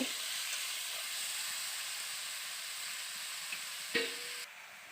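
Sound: sautéing bitter gourd, potato and eggplant in a pan

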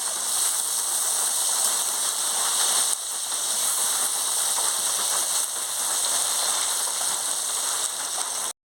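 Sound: pointed gourd frying in oil

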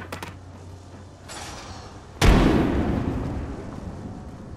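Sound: frag grenade explosion in Apex Legends video game

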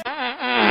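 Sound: fart

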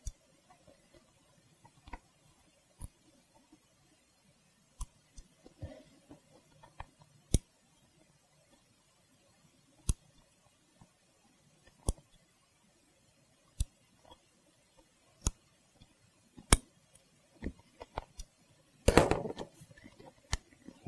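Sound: scissors trimming leather for Ford Mustang seat

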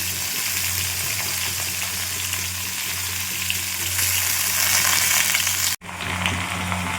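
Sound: mixed vegetables frying in a small wok

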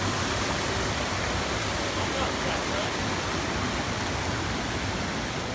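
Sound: waterfall in a forest

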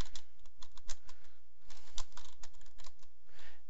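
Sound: typing a command on a computer keyboard

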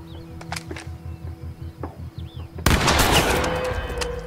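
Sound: gunshots in a video game

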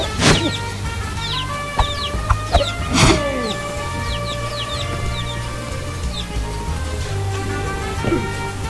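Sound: angry rooster clucking in the video game Guacamelee

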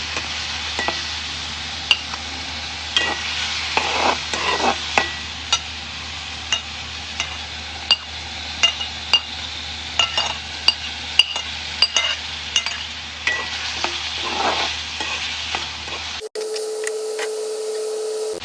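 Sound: stirring frying eggs with small potatoes in a pan

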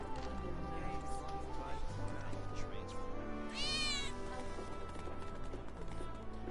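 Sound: cat meowing, from video game Final Fantasy 7 Remake

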